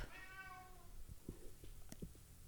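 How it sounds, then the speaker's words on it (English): A cat howls faintly somewhere behind the listener, one drawn-out wavering meow followed by small scattered clicks and rustles in a quiet room. "my cat is howling behind me"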